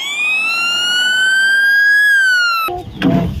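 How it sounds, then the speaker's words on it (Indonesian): A red-and-white toy fire truck sounds a loud electronic siren, one long rising wail with bright harmonics that cuts off suddenly into a short rattling clatter. "di sini ada mobil pemadam kebakaran teman-teman"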